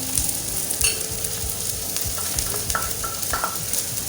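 Okra fries with spices in a pan over a low flame, a close steady sizzle broken by repeated spatula scrapes and clinks as it is stirred.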